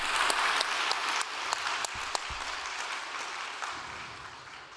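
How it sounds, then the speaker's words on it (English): An audience at a prayer gathering gives a warm round of applause: dense, steady clapping from many hands, fairly close, with a few sharper individual claps standing out as it slowly tapers off. "let us offer them a warm round of applause"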